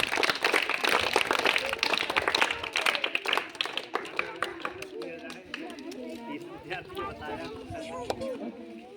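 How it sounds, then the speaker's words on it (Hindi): Children clapping in a classroom lesson on eclipses, a quick run of sharp uneven claps that thins into scattered taps, with kids chattering and talking throughout. "ताली बजाओ।"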